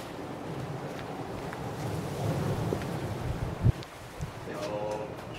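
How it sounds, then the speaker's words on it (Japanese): Wind gusts across an open, elevated vantage point beside a bridge in Tokyo, a steady broadband rush with a low rumble that swells and buffets the microphone, with faint background activity throughout. "風吹くぞ"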